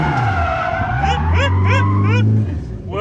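Datsun fitted with an FJ20ET turbo engine sliding on a track, tyres squealing in a series of rising, wavering chirps over a loud, steady engine drone, close by, with people talking over it.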